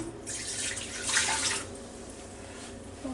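Swanson's chicken broth poured from a Pyrex measuring cup into a Ninja Foodi Deluxe pot, a steady splashing liquid stream that swells in the middle and then trails off into a quieter trickle.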